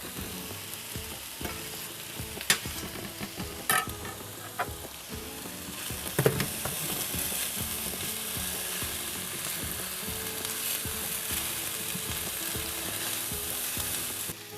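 Garlic fries in a pan with pulled jackfruit, giving a long, steady sizzle with scattered clinks and scrapes of stirring and a louder burst partway through, heard close and alone.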